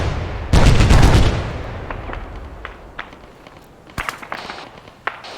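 A grenade machine gun (GMG) in the ArmA 3 video game, one heavy booming blast with a long rumbling decay, then scattered distant pops and a second sharp report.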